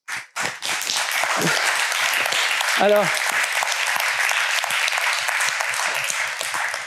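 An audience at a talk on craft trades gives sustained applause that swells quickly and holds at a steady, dense level, with a voice speaking briefly at the start and again partway through.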